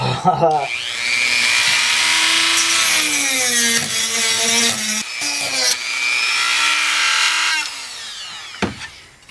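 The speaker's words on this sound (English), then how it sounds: "And look at me now. I'm using this Dremel." A Dremel rotary tool carves a wooden board game, an ancient Royal Game of Ur. The motor whines loud and close, rising and falling in pitch as it bites into the wood over several seconds, then cuts off.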